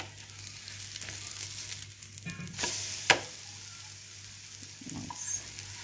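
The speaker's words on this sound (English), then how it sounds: "Tawa is on the medium heat now, and once it is roasted from bottom side, just flip it over." French toast made with egg-soaked bread fries on a tawa over medium heat, giving a soft, steady sizzle with a single sharp click midway; no one speaks.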